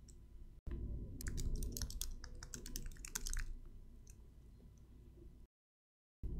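Computer keyboard typing in an office setting: a brief burst of quick, light key clicks in irregular rhythm, close and faint over a low hum, then a pause and a few more taps.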